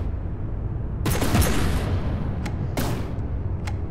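Guns firing in the naval combat game From the Depths, two loud bursts of rapid gunfire with crackling reports, followed by a few short sharp shots against a low rumbling background.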